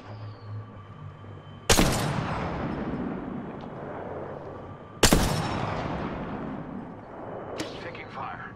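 Gunfire in Apex Legends: two heavy, booming shots a few seconds apart, each with a long echoing tail, then a lighter crack near the end, close and loud with a voice speaking in between.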